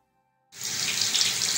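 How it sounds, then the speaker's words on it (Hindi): Chicken drumsticks go into hot oil in a kadhai: after half a second of silence, a sudden sizzle breaks out and settles into a steady, close, hissing fry. "इसको अब मैं फ्राई करने के लिए कढ़ाई के अंदर डालूंगी।"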